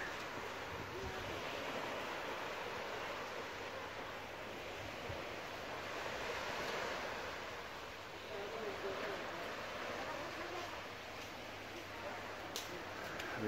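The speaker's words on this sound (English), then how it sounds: "Lovely beach." Steady broadband wash of surf rolling onto the beach at Koh Samet, Thailand, continuous and moderately distant, with some wind rumble against the microphone throughout.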